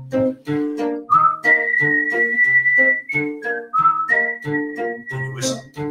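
A clear whistled melody rises and glides between notes over plucked accompaniment, sustained pitches carrying the tune near and loud.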